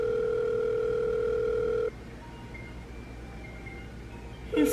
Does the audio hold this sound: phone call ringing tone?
yes